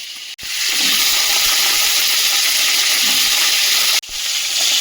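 Mixed vegetables with whole cumin sizzle loudly in a hot pan, a dense steady hiss of frying that cuts out briefly twice and resumes.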